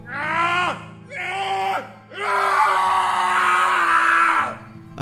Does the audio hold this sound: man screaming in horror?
yes